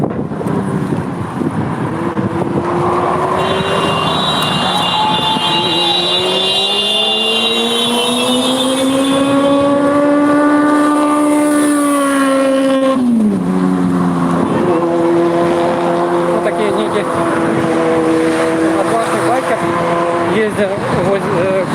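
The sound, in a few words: traffic police car engine noise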